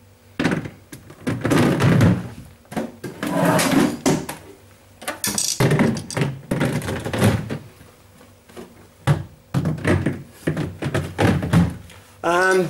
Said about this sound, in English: Now we just need to put our drawers in.